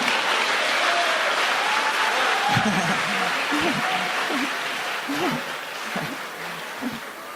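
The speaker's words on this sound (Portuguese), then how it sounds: "Pode dar um aplauso ao Senhor?" A church congregation applauds throughout, a dense, sustained roar of clapping that tapers slightly toward the end, with a voice speaking intermittently over it.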